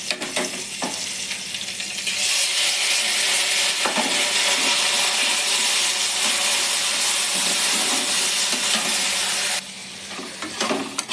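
Ginger-garlic spice masala with chilli powder, turmeric and salt sizzles and hisses loudly in a hot pan for a fish curry, a continuous frying roar with occasional stirring clatters.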